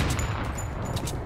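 Gunfire in a Fortnite match, a steady dense burst of repeated shots filling the whole moment, loud and continuous with game background, no talk over it.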